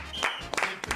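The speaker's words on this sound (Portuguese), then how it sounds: "Palmas pro Flamengo" A few quick hand claps in a sports talk studio, celebrating Flamengo's win; sharp, close bursts spaced unevenly over a second.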